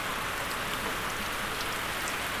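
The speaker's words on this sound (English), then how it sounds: "Well, we're having a bit of a downpour again." Heavy rain pours down in a video game as a dense, unbroken hiss. It stays steady and loud throughout, with no voices.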